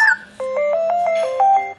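An iPhone plays a custom ringtone, a short melodic run of bright electronic notes stepping in pitch, close and clear with no talking.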